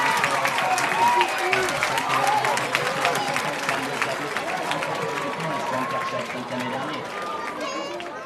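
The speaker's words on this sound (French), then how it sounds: "sous les applaudissements du public" Spectators clap steadily at a cross-country steeplechase horse race at Pompadour, a dense, sustained patter of applause mixed with crowd murmur, fairly close and continuous throughout, easing slightly toward the end.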